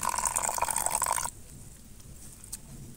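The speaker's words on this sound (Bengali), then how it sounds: "আমি এখানে যে চাল বাটার সময় যে জলটা ব্যবহার করেছি এই জলটাই দিচ্ছি।" Water left over from grinding rice poured into a thick rice batter for a palm-fruit sweet pancake, a steady close splashing pour lasting about a second before it stops, leaving a quiet room.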